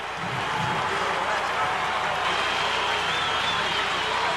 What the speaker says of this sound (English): you hear the crowd in the background as the Mets take the field